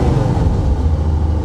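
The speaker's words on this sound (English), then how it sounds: "You give it a little throttle, misfire clears right up." Old Corvette engine idling rough then picking up under light throttle as a misfire clears, a loud, steady low rumble close by with no talking.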